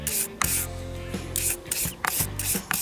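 A toothbrush scrubs dust off the blades of a car heater and air-conditioning fan motor, with repeated short rasping strokes, close and steady, broken by brief pauses.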